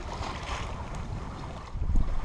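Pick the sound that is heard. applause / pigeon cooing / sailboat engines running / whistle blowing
sailboat engines running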